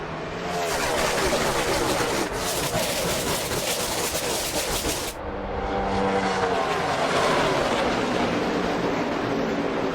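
NASCAR stock cars roar three wide into turn 1 at the 2016 Bank of America 500, a loud, dense engine wall that shifts pitch midway as the pack sweeps past, with crowd noise underneath.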